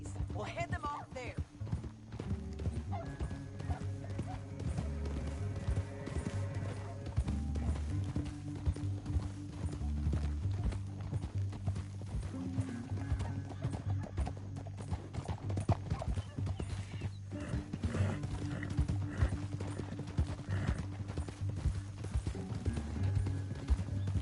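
Horses gallop with steady clip-clop hoofbeats through a Red Dead Redemption 2 chase, layered under game music and occasional voices throughout.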